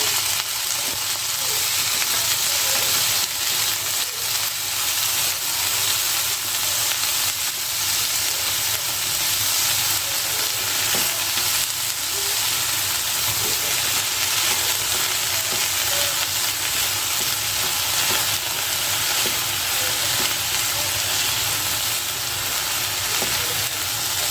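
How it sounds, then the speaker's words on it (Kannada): Chopped ivy gourd fries in a pan for a temple-style palya, giving a steady, loud sizzle and hiss that carries unbroken throughout with no talk. "ನೆಕ್ಸ್ಟು ಹೆಚ್ಚಿಟ್ಕೊಂಡಿರೋ ತೊಂಡೆಕಾಯಿನ ಹಾಕ್ತಾ ಇದ್ದೀನಿ"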